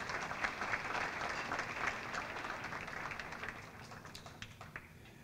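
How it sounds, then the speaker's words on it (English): Audience applauding at a community fundraising dinner, a burst of many hands clapping that is loud at first, then gradually thins and fades. "Please give them another round of applause"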